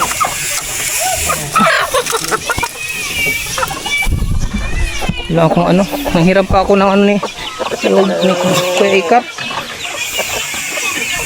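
Chickens cluck nearby throughout, mixed with people talking over them in a busy outdoor farmyard.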